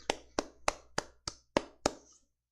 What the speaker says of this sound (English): Round of applause for Snail.